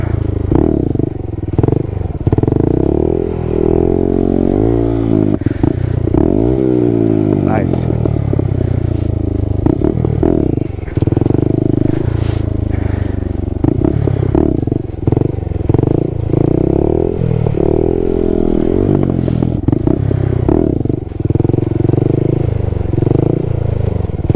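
A motorcycle speeds up during rear-brake wheelie practice, its engine loud and close with revs rising and falling in sweeping surges, plus some rattling clatter throughout.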